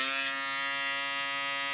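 A Stylecraft Flex electric shaver runs with a steady, loud, high-pitched electric buzz. The buzz holds an even tone throughout, with no voices.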